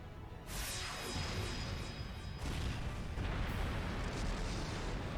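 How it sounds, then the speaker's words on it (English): An orbital energy missile explosion in Trails of Cold Steel IV, loud whooshing streaks followed by a sustained rumbling blast and roaring debris, with a second surge partway through. "A missile made of orbital energy."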